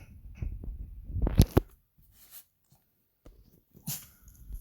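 A pet dog close by gives a few short, low sounds, with a sharper burst near the middle and another about a second later, between quiet stretches.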